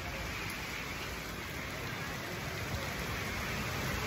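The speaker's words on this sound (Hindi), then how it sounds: "आज बहुत ही तेज बारिश हो रही है" Dense, steady heavy monsoon rain hisses continuously like broad static, heavy and unbroken throughout.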